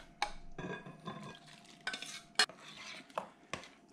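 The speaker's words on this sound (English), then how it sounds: "I'm going to stir in the thickened cream." Thickened cream being stirred into a baked ziti mixture in a big bowl, a series of sharp utensil scrapes and clinks against the bowl in an irregular rhythm, close and fairly quiet, with no talking.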